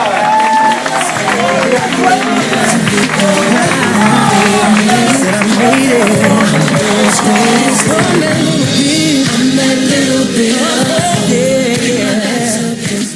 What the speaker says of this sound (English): please give a huge round of applause to Richie Barker!